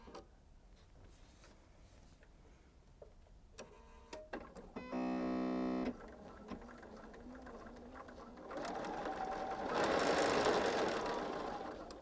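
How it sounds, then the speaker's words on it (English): Sewing machine stitching a quilt block seam on a four-patch with a centered triangle, one steady burst of stitching lasting about a second, nearby and distinct against a quiet room, followed by faint handling noise and a soft hiss. "So I'm going to go ahead and stitch starting on the edge there."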